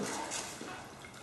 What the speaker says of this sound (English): So let's pour the water in.